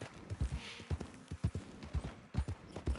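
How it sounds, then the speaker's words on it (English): Clip-clop of a horse's hooves in the Western video game Red Dead Online: quiet, even footfalls in a steady walking rhythm, repeating in pairs over a few seconds. "NPC horse."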